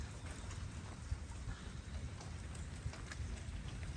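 Steady, dense heavy rain hiss from a severe storm, about 60 mm in 20 minutes, with a low rumbling undertone, continuous and fairly quiet throughout, no voices.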